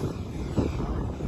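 Steady, loud whine and roar of an E-flite F-16 80mm electric ducted-fan RC jet taking off, close by and sustained for the whole brief moment without voices.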